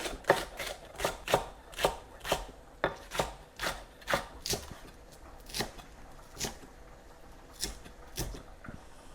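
Spring onions are chopped into small pieces with a knife on a board, giving a steady run of crisp, close chops that slow and thin out toward the end, with no talking.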